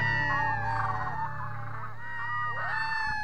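Seabirds calling on the Westfjords coast of Iceland at Drangsnes: a continuous chorus of honking, squealing cries over a steady low hum, moderately loud and without speech.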